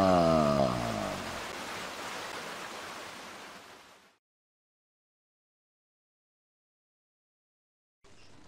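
A mountain stream in Norway rushes with a loud, steady broadband roar, close by and without talk. It cuts to silence about halfway through and returns briefly at the very end.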